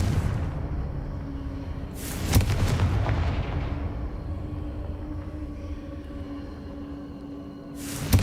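A Confringo fire-blast spell from the Hogwarts Legacy game goes off as a sharp, loud burst that rolls into a rumbling boom, with a second crack near the end over steady background ambience.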